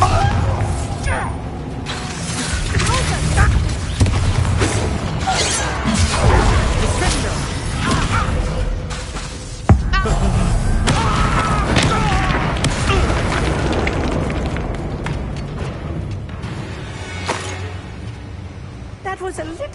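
A Bombarda blasting spell detonates in Hogwarts Legacy amid a dense, loud stretch of booming impacts and crashing debris, with one sharp burst near the middle and speech running throughout.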